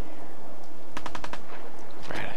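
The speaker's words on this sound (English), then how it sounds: "I hear gunshots" A rapid burst of several gunshots in the video game Fallout 4 rings out in quick succession over a noisy background, followed by another sharp report.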